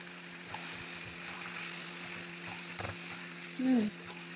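Chopped onions frying in a pan and being stirred until browning, a steady soft sizzle with light scraping, and a brief voice near the end.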